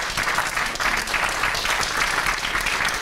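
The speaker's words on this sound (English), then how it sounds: "you heard the applause, and that was for you" Lecture-hall audience applauding the program manager, a steady round of many hands clapping at moderate distance, continuing evenly for a few seconds.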